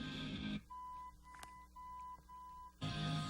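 A single steady electronic beep from a 1965 Buick AM car radio, a clear sustained tone between bursts of louder background noise.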